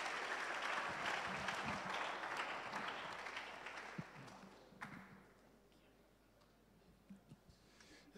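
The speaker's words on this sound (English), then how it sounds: "A round of applause, ladies and gentlemen." Audience applause at a university research week event, a steady clapping that fades away over several seconds, leaving scattered faint taps and thuds in a quiet hall.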